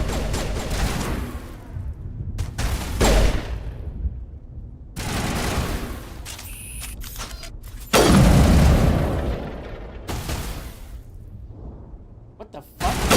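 Gunfire in the video game Mass Effect sounds in several loud bursts and booms separated by short quieter gaps, close and punchy, with voices talking between shots.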